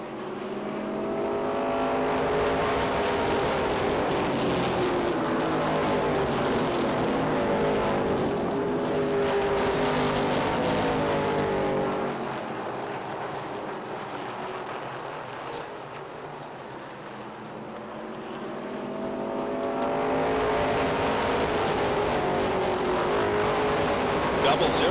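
Race cars roar around Beech Ridge Motor Speedway in weekly racing, a pack of engines swelling loud and close, fading as they pass, then surging back again, with a voice talking over the noise.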